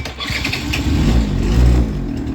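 A small two-stroke Eton Polaris automatic scooter engine catches and starts, sputtering up into a buzzy, uneven idle that rises slightly toward the end.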